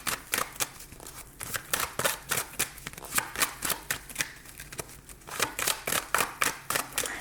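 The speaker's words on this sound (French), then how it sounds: "retirer une petite carte." Tarot cards being shuffled and drawn from a deck, a rapid run of crisp riffling bursts repeating in steady rhythm, close and fairly loud with no talk.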